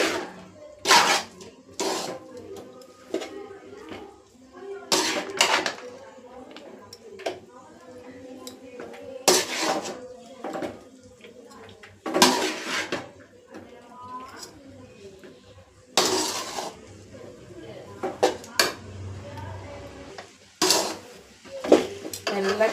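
Noodles stirred in a pan with a utensil, giving sharp metallic clanks and scrapes in irregular bursts, close by, with short quieter gaps between strokes.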